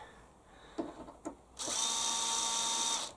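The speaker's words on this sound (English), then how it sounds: "Let me just get that drill started a bit." A couple of light clicks and taps, then a power drill whirs up to a steady high-pitched spin for over a second before stopping, close by, while building a shed extension.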